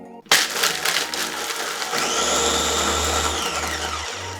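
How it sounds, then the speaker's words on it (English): A loud motor whirs and grinds steadily after a sharp start, with a high whine rising partway through, like a blender chopping ice, as it blends frozen sangria. "Now, I'm going to pop our blender top on."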